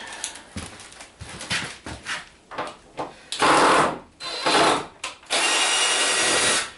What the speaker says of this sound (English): So let's start taking this bad boy apart.